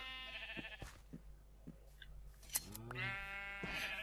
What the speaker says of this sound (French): On a tondu nos amis les moutons.